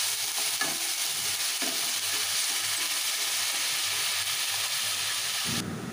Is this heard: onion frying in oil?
yes